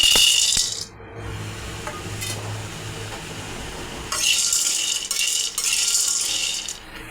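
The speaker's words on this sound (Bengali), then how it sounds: "একটা কড়াই বসিয়ে দিয়েছি, এবার সিমের বিচিগুলো আমি ভেজে নেব।" Flat bean seeds fry in a hot wok, giving a loud, steady hiss and sizzle that briefly dips near the start and then swells again with scattered rattling.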